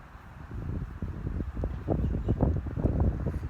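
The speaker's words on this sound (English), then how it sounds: "it's a windy day." Wind on a windy day rumbles and buffets against the microphone in a continuous low roar with gusty swells, no voices present.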